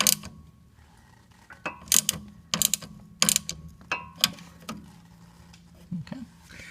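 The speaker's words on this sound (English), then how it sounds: "Go ahead and tighten down this 12mm nut to hold that brake line block in place." A 12mm nut being tightened on the front brake line block of a 2003-06 Infiniti G35 during a strut job, heard as a run of quick ratchet clicks in short bursts with metallic taps and pauses, close up.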